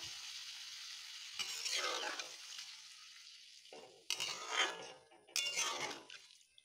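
A spoon stirs cauliflower and fish curry in a pan after water has been added, giving three separate bursts of scraping and bubbling with quiet gaps between them.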